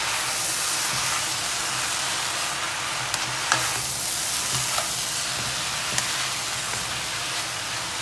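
Scallion and purple cabbage get stirred into a pan of vegetable chow mein, a loud continuous sizzle and hiss with occasional scrapes and clinks from the stirring.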